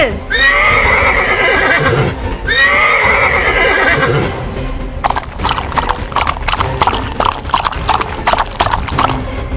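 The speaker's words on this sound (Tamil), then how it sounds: "அந்த குதிரை தன்னால ஓடுது" A horse gives two loud, drawn-out neighs, then its hooves beat in a fast, even galloping rhythm close by.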